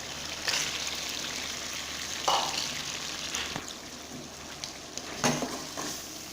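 Chicken sizzles and fries in a pot with softened tomatoes for dal gosht. Moderate continuous sizzling is broken by occasional clinks and scrapes of a utensil against the pan, with no voices.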